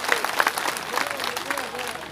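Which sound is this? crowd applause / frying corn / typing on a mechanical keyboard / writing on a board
crowd applause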